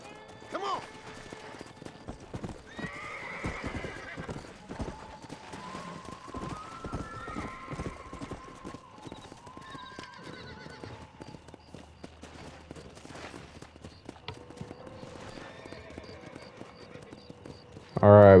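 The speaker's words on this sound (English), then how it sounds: "I'm on my horse." A horse in the Red Dead Redemption video game clip-clops steadily at a gallop, with occasional neighs and whinnies over game music and ambience, while someone talks over it.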